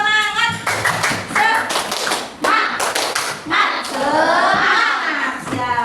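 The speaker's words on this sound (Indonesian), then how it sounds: "Coba tepuk semangat." Children in a classroom perform a rhythmic clapping cheer, sharp hand claps and taps in bursts with chanting voices between, loud and close.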